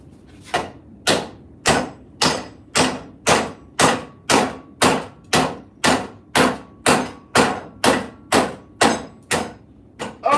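A hammer drives a wedge into an axe handle with about twenty sharp, evenly spaced blows, roughly two per second, each a loud close knock that dies away quickly.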